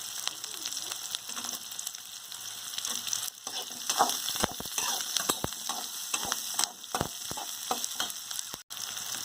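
Onion, green chili, garlic and ginger frying in oil for a sautéed chutney, a continuous close sizzle broken by frequent sharp spatula scrapes and knocks against the pan.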